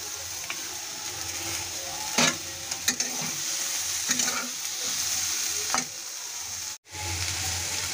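Green beans fry in a pan with a loud, continuous sizzle, broken by several clattering scrapes of a spatula as they are stirred and a brief drop in the sound near the end.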